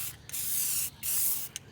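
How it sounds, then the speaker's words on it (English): An aerosol can sprays primer onto the lower steering column cover of a 1978 Corvette C3 on a trailer workbench, giving two close, steady hissing bursts followed by a brief final puff. "I'm just gonna spray it down with some"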